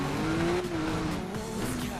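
A car in Need for Speed Rivals roars loudly with a steady engine drone, its tires squealing through a hard skid, close and continuous with no talking.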